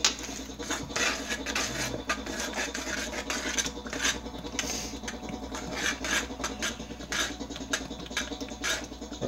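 Chocolate chips being stirred into a thick fudge mixture with vanilla, giving a steady rasping, scraping rub that repeats in quick irregular strokes, close and fairly quiet, with no one talking.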